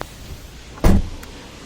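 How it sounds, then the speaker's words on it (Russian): A car trunk fitted with a Centurion Tango alarm closes with a single loud, close thump amid quiet background, followed by a faint short click. "Закрываем багажник."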